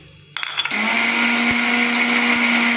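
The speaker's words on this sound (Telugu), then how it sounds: "ముందుగా పల్లీలు మిక్సీ పెట్టుకోవాలి ఫ్రెండ్స్" A mixer grinder starts up after a brief clatter and runs at a loud, steady high-pitched whir, grinding peanuts continuously to the end.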